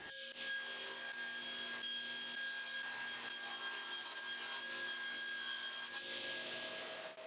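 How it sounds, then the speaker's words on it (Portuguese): A table saw cuts through a sheet of plywood in a woodworking shop, giving a steady, continuous high whining roar that holds at an even level from start to finish. "Também cortei uma folha de compensado"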